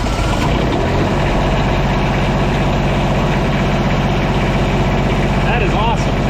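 A heavy engine on an auctioned machine bought as inoperable, idling loudly and close with a steady low rumble and rattle throughout, a voice speaking briefly over it.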